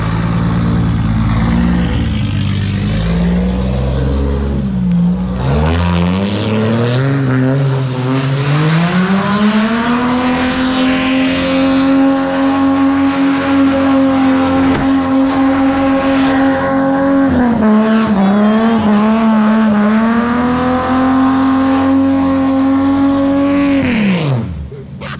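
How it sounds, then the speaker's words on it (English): A drift car being prepped for a Drift Matsuri event revs hard in a car park, its loud engine climbing in pitch and holding a high, raspy drone for about twenty seconds before cutting off abruptly, heard close and alone. "I'm gonna take for a quick rip in the car park."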